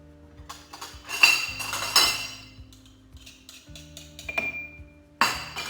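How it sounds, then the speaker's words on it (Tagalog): Metal utensil clinks and scrapes against a bowl while garlic and egg are whisked together, a series of close, uneven clattering strokes with short pauses between bursts. "now mix the garlic together with the egg"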